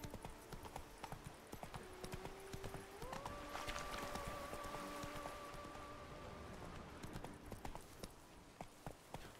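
Horse hooves clip-clopping at a steady rhythm as Roach gallops in The Witcher 3, with a brief whinny and a rising in-game music tone over continuous moderate footfalls.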